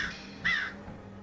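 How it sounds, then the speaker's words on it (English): A single harsh caw from a crow sounds in the middle distance, brief and fairly faint, over a low steady background hum. "Crow. Is it a crow?"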